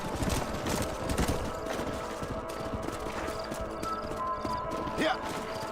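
Horses clip-clop in the video game Red Dead Redemption, a steady patter of hooves close by with a brief whinny, under ongoing talk.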